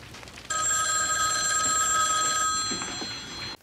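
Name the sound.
telephone ringing in a film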